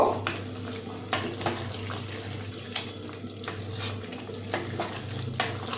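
Food, a pointed gourd and prawn mixture, stirred in a frying pan over a low hum, with soft repeated scrapes and clatters of a spoon against the pan under a gentle sizzle.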